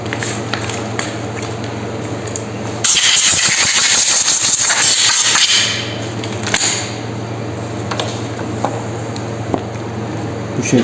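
A burst of compressed air hisses loudly onto a motorcycle air filter during a service on a Rüzgar R25, lasting about three seconds over a steady engine-like hum, followed by a brief second puff.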